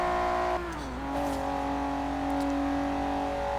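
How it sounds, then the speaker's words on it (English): A Porsche engine in Forza Horizon 3, a sustained close drone that dips in pitch around a gear change, then holds a steady high tone as the car keeps accelerating, with no talk. "Sound on this Porsche is just amazing."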